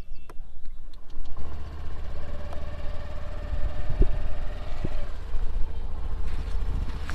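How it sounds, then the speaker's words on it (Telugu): A 2020 Honda Dio scooter engine starts with the brake pressed and settles into a steady, close, low idle, with light clicks and a brief faint tone partway through. "let's start the engine so first ఏంటంటే బ్రేక్ ప్రెస్ చేసి ఇంజన్ స్టార్ట్ చేయాలి"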